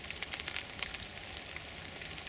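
Light rain falls in woodland under darkening clouds, a faint, steady patter and hiss of drops with no voices.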